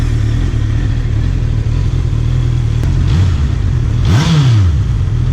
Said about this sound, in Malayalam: നമുക്ക് എക്സോസ്റ്റ് സൗണ്ട് നോക്കാം.